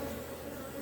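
A close, steady swarm-like hum comes from honeybees crawling over an open hive frame, with the buzzing holding even and unbroken for the whole moment.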